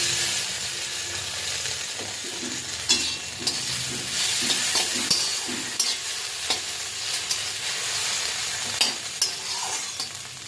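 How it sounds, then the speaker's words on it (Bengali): Scrambled egg with garam masala and tomato sizzling steadily in a hot pan while a spatula stirs it in repeated scraping strokes, close and continuous with no talking. "যতক্ষণ ঝুরি না হয় ততক্ষণ এটাকে নাড়াতে হবে।"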